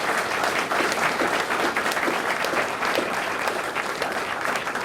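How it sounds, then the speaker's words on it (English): Crowd at the PyConZA 2013 Python conference gives a speaker sustained, even applause, a thick wash of many hands clapping at steady loudness throughout. "I think you can all give Stefan a good round of applause again."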